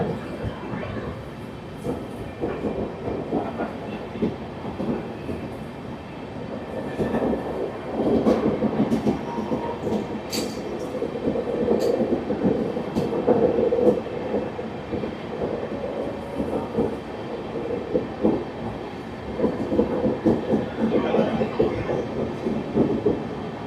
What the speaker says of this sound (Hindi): अभी जो हमारी ट्रेन है ये टनल से क्रॉस हो रही है।